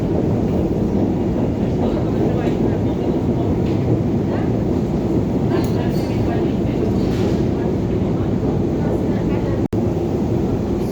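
A Kyiv metro train runs through a deep underground tunnel with a loud, continuous rumbling roar that holds steady throughout, broken only by a brief sharp click near the end, with voices faintly under it.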